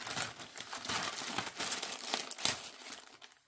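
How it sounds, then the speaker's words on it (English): Crinkly plastic wrapping being pulled off a Total Tarot partwork magazine, steady close crumpling and rustling with a few sharper tearing crackles, no voices. "today I am unwrapping the latest Total Tarot magazine"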